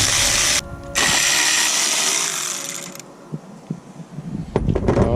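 A ratchet works loose the 10mm bolts holding a fuel rail to an engine block in close, loud bursts of clicking. Scattered taps and metallic clinks follow as the bolts come free.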